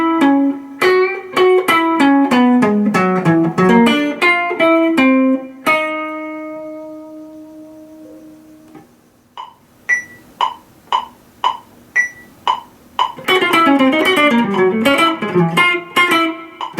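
Electric guitar plays a solo lick: quick runs of bright, effected notes, a few held tones, then a series of sharp staccato stabs and a busy closing flurry, loud and alone.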